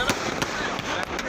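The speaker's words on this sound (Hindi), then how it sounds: "जन्मदिन के जश्न के दौरान जमकर पटाखे फोड़े गए, काफी देर तक आतिशबाजी की गई।" Fireworks and firecrackers bursting at a nighttime birthday celebration, several sharp cracks in an irregular rhythm over a steady crackling background, fairly loud and close.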